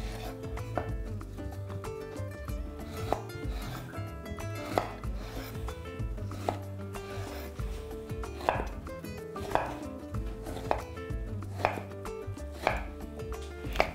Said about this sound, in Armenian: Կիսում ենք տանձը, հեռացնում ենք պտղակոթը, սերմնատուփը